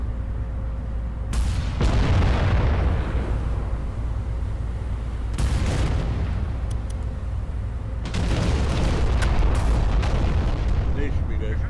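Heavy naval gun salvos boom in the Battleship Command video game during convoy hunting, with several deep, rumbling blasts in clusters over continuous low engine and sea noise.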